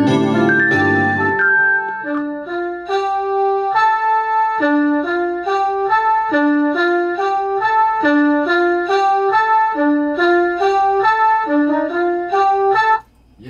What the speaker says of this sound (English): the last sound I added was this little saxophone horn sound